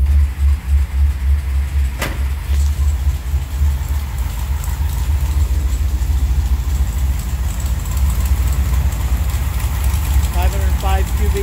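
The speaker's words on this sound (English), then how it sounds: "The thing idles nice. It's got a growl to it when you kick the throttle open." A Mopar 505 cubic inch stroker big block V8 with a hydraulic roller cam idles without exhaust, giving a loud, continuous, lumpy low rumble with a few brief sharper sounds near the end.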